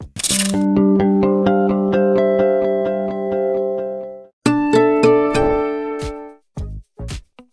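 A corporate sound logo for Verizon: a bright, chiming electronic melody of sustained tonal notes ringing out loud and alone, followed by a second chiming phrase and a few short trailing hits.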